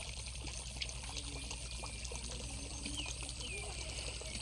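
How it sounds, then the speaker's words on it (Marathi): Scalding hot water bubbling and churning in the main pool of the Unhavare hot spring near Dapoli, a steady, soft, continuous gurgle and trickle with no voices. "हे एवढं गरम पाणी आहे की पूर्ण उकळतं पाणी आहे"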